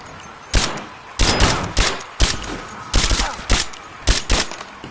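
Gunfire in Rise of the Tomb Raider on PS5 comes as repeated loud bursts of rapid shots with short gaps between them, close and sharp, with no voices.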